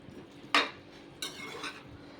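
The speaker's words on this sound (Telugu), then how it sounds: "ఇవి వేసి కలిపేస్తున్నాను." A spoon clatters against a pot as drumsticks, raw mango and coconut are stirred into moong dal, two sharp metallic knocks followed by soft scraping, close and alone.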